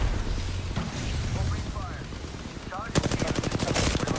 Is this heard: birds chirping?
no